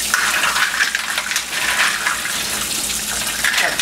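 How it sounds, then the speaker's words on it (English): Mussels rinsed under running water, a steady broad gush from a kitchen tap with faint clattering of shells, continuous and close for the whole stretch, with no talking. "rinse your mussels really well before you put them in"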